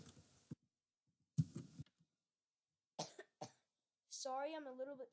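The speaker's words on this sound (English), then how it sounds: "That's why I just coughed." Two loud, close coughs from a boy playing Minecraft Skywars while sick, spaced about a second apart, followed by quieter short voice sounds and then speech.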